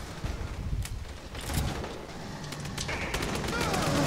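Rapid gunfire rattles through a chaotic firefight in the co-op shooter Aliens: Colonial Marines, with dense bursts and sharp shots over a constant noisy background and occasional voices.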